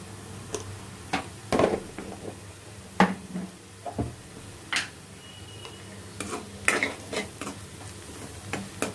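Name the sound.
onions frying in pan with turmeric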